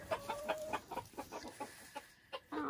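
Chickens and a rooster on a homestead farm, including white birds, give a run of short clucking calls in a fairly quick, uneven rhythm, close by and moderately loud, with a brief louder call at the end.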